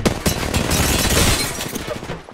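Bursts of rapid gunfire crackle in a first-person shooter game, a dense, loud volley lasting about two seconds before tapering off.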